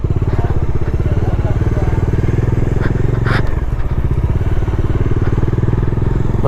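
Motorcycle ridden off-road on a trail, its engine pulsing steadily and loudly up close with rapid firing beats, with clattering and thumps from the rough ground and a brief burst of noise midway.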